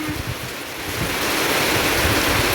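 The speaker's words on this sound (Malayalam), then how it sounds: "മഴവെള്ളം വീഴുന്ന കൂട്ടത്തിൽ വായു നീങ്ങി പോകുന്നതാ അത്" Wind blows hard with rain falling, a dense, continuous rushing roar that swells slightly louder toward the end, with no talking.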